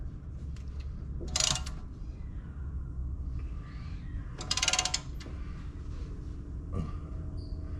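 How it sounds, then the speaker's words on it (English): A ratchet wrench worked by hand to push brake caliper pistons back on a 2014–2020 Infiniti QX80 / Nissan Armada gives two bright bursts of rapid clicking a few seconds apart, close up, over a low steady background hum. "you're literally just working the ratchet like this"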